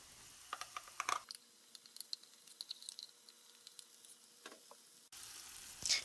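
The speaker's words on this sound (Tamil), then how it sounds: "கேரட் ஆட் பண்ணிவிட்டு வதக்கிடுங்க." Carrots and ground masala paste sauté in a pan for a carrot kurma. A steady close sizzle with scattered sharp crackles and stirring scrapes runs alone, dropping briefly and then returning louder near the end.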